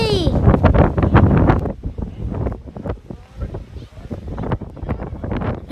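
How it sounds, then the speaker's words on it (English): Breezy wind at a beach gusts and buffets the microphone, forming a rough low rumble beneath loud voices that talk throughout. "It started! Too breezy!"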